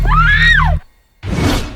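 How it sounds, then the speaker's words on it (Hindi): A woman's loud, rising and falling scream for a horror story cuts off into brief silence, followed by a burst of broadband noise like a crash or impact. "तभी अंजलि चीखी"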